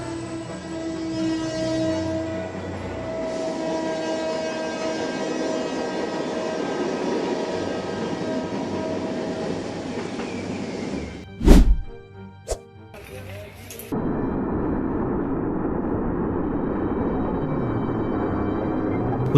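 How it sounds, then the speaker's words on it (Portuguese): Train striking a vehicle left on the tracks: steady rumbling approach under a horn, then a sharp heavy crash and a second smaller impact, followed by continued rolling noise. "O trem já estava perto demais, e apesar do alerta, o veículo permaneceu no caminho, até que a inevitável e poderosa colisão finalmente aconteceu."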